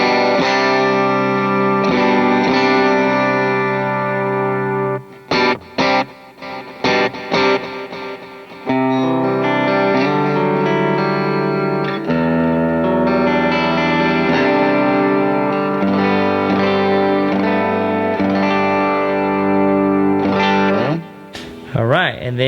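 An electric guitar runs through an HX Stomp Matchless patch for worship playing, with heavy effects on sustained, ringing chords. It breaks into short, choppy strums midway, then returns to washed-out held chords that fade at the end, with no talking.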